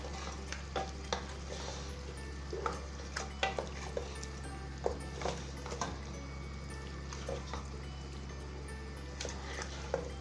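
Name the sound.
beef chops frying on medium flame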